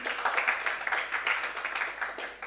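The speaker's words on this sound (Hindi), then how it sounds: "एक बार जोरदार तालियां इनके लिए भी" Brief applause in an online class lecture, a dense wash of clapping at steady moderate level with no clear pauses.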